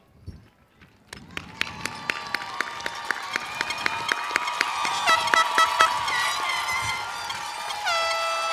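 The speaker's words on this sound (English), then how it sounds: "turn around, and applaud your family here tonight." Graduating high school seniors at an evening graduation ceremony stand and applaud their families; a loud, steady wash of crowd clapping with sharp individual claps and horn-like blasts rising over it.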